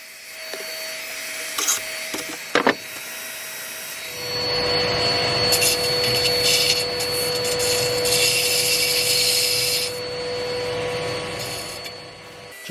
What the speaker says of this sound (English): Just finishing off the inside now, going through the various grits